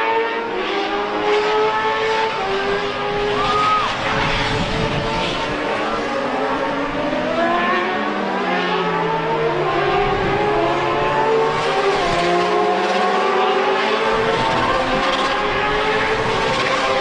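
High-revving motorcycle race engines whine and wail as several bikes pass at a race, with overlapping rising and falling tones, loud and steady throughout.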